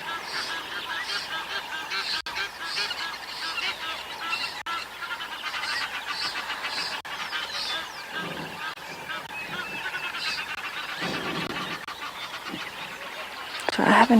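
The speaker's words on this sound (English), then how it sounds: "A lot of birds are chatting away." Birds at a safari waterhole dam call continuously, a dense chorus of honking, goose-like calls from several birds, moderately near and steady throughout, with no talking.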